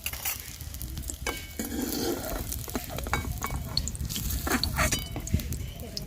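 Egg-and-cabbage patties sizzle steadily as they fry in mustard oil, with scraping stir strokes and soft spatters continuing throughout at close range, while a voice talks over the cooking.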